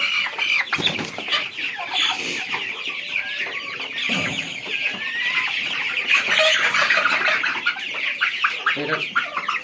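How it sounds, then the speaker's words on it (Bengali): Tiger breed chickens clucking close by, a continuous busy stream of clucks and squawks with a brief wing flap, no one speaking. "এটা টাইগার মুরগি, একটা মুরগি।"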